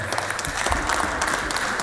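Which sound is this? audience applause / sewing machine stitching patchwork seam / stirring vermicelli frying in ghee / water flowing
audience applause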